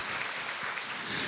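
Church leaders and coaches at a leadership training session give a short, soft patter of applause, faint and even, lasting only a moment.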